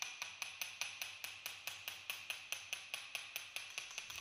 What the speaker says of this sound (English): Use a gentle but fast tapping action.